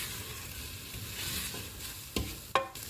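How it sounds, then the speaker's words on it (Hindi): Beef simmers down in a pot over a full flame until its water dries off, a soft steady sizzle with a few sharp scrapes and clinks of stirring near the end. "चूल्हा फुल कर देते हैं और पानी ड्राई होने तक इसको पकाएंगे।"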